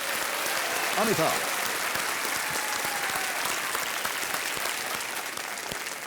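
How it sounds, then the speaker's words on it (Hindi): A studio audience at a television quiz show claps steadily and loudly throughout, while a host's voice speaks briefly over the applause. "तालियों के साथ इनका अभिनंदन"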